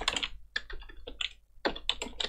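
Someone types text on a computer keyboard in quick bursts of close, crisp key clicks with a short pause partway through, and no voices.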